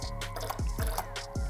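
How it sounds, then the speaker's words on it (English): Reshoevn8r Advanced cleaning solution is squirted into a bowl of water, making a few close, quick liquid drips and plops in a quick sequence. "grab our Reshoevn8r Advanced solution and pour a couple of squirts into"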